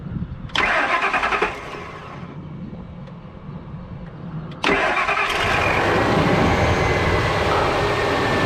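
A 1999 Ford Expedition, fresh from new spark plugs and coils, cranks and catches briefly, then dies; a few seconds later it cranks again, fires and settles into a loud, steady idle close by.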